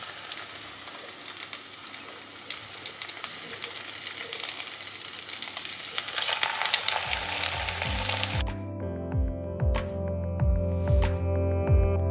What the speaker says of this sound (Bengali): কাবাবগুলো আমি ডিমে ডিপ করে ফ্রাই করব।